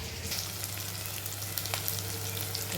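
Ginger garlic paste frying in a pan for a mutton curry, a loud, steady, close-up sizzle with crackling spits running continuously and without any voices.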